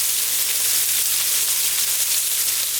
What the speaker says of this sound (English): I am going to add just a little bit of olive oil on this side with the onion